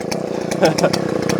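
A NEOTEC chainsaw cutting through wood gives a loud, close, continuous engine snarl that stays steady across the short stretch, with brief surges in pitch.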